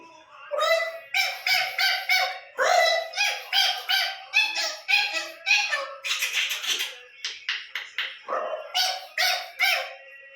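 A voice mimics common myna calls with a rapid series of harsh, chattering squawks and whistles, close and lively, in bursts with brief gaps.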